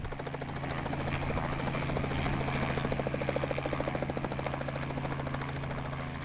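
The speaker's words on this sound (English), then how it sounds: "The helicopter can't fly at night, so the last joy flight of the afternoon was back to Old Mogo Town." A helicopter on an afternoon joy flight, its engine and rotor giving a steady, loud, rhythmic thudding drone close by that holds evenly throughout.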